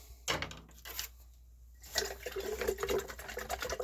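A spoon stirs salt brine for sauerkraut in a container, making close, irregular swishing and sloshing of liquid with light clinks. The sounds come in short bursts and grow busier toward the end.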